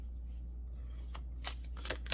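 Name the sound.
large oracle cards being shuffled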